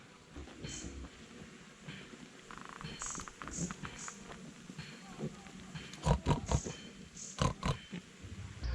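Irregular pig grunts and oinks in a pigsty in Sa Pa, northern Vietnam, some louder bursts near the end, with a steady low background hum.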